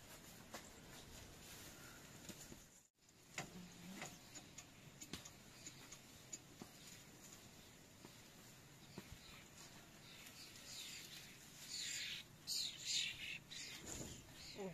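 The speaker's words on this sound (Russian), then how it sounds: "Ого, птичек-то какой." Small birds chirp intermittently around a dry vegetable garden with tomatoes and cabbage, scattered light calls over a steady outdoor background, with a brief dropout near the start and a denser burst of twittering toward the end.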